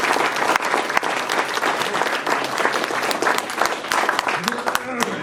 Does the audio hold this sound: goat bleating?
no